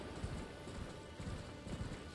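A horse's hooves in the video game Elden Ring, a steady galloping clatter of rapid thuds over a dense rumbling background, moderately loud and continuous.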